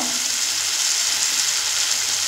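Spice paste with turmeric frying in oil in a pan, a steady bright sizzle that holds evenly throughout, close and loud with no talk.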